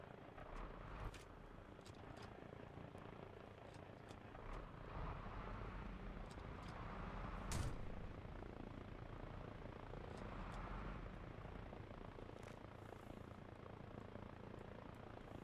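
A supply helicopter in a video game gives off a steady, distant rotor drone with faint thumping, holding at an even low level throughout with no talk over it.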